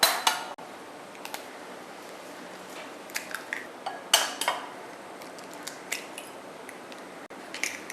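Four eggs being cracked into a bowl for an egg wash, a series of sharp taps and clicks of shell against the bowl rim, spaced irregularly with brief wet sounds between, close and clear without talk.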